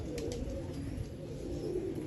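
Pet pigeons kept on a rooftop loft, owned by a hobbyist, give soft low cooing over a steady background murmur, moderately close and continuous without pause.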